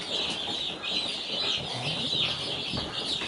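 A crowd of Cornish Cross meat chicks peeps continuously indoors in a brooder building, a dense high-pitched chorus of overlapping cheeps that stays steady and fairly loud throughout with no talking.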